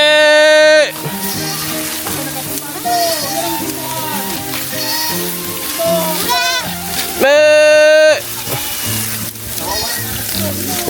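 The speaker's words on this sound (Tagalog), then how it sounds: "Yung mga kambing" A herd of goats bleats loudly and repeatedly while grazing, some calls long and wavering, with other animal cries and a few voices scattered around them.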